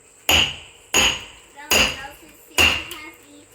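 Four heavy hammer blows drive a metal wedge into a log at a steady, unhurried pace, each with a sharp clang and brief ringing decay.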